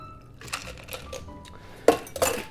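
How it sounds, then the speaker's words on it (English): Cocktail fine strained through a double strainer into a rocks glass at a bar, giving light clinks of ice and glass with a couple of sharper knocks near the end, close by. "we are going to fine strain that, or double strain that, into"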